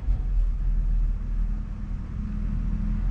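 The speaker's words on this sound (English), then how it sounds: "okay, so now we just start the car." A BMW M340i idling after starting, a low steady engine rumble heard up close with no talk.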